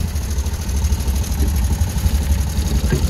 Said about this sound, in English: this thing needs the valves adjusted. It's very ticky.